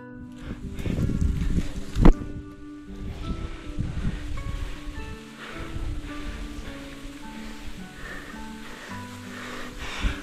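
Strong wind rustles tree branches and leaves in a forest near the Cambodian border. The loud, gusty rushing is steady, with brief louder surges.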